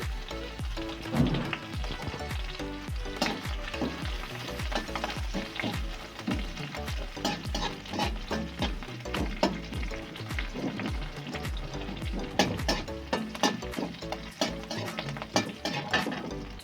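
Chopped ginger, green chilli and curry leaves crackle and sizzle in hot oil in a pan, a busy run of pops and spits that holds steady throughout at moderate level, with no talking.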